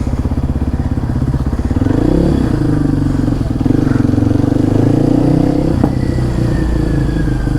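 Yamaha R15 motorcycle fitted with an Arrow full-system exhaust revs loudly and continuously up close, its throaty idle rising into sustained revs with a brief clatter near the end.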